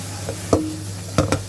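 Kale, egg and oyster sauce are stir-fried in a pan: a low sizzle sits under a few sharp scrapes and clacks of the spatula, spaced out irregularly across the clip.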